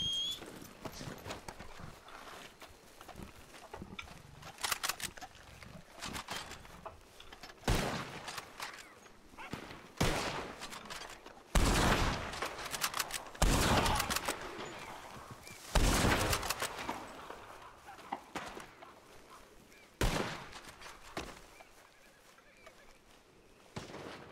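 Bursts of rapid gunfire crackle repeatedly at irregular intervals in the video game RedM, some loud and close, others fainter, with no talking.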